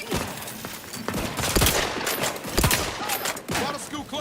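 Rapid bursts of gunfire in The Outer Worlds 2, loud close shots firing in uneven volleys of several rounds each, with sharp cracks repeating throughout.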